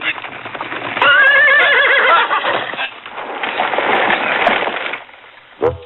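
A horse in a radio drama gives a loud, close whinny, then hooves clip-clop away and fade over several seconds, ending with a brief thump.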